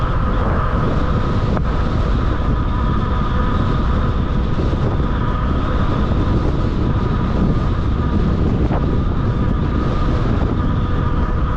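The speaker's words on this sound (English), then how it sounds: "Heading into the wind pretty good." A strong headwind roars across the microphone while riding a 750 watt 48v GDSEBIKE Polarna M4 electric bike, a loud, continuous low buffeting rumble with no speech.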